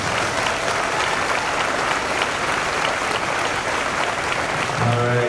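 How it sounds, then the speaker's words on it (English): Sustained applause from a seated audience for students at a middle school promotion ceremony, a dense, steady crowd clapping with no break, and a voice entering faintly at the very end. "let's give these students a round of applause."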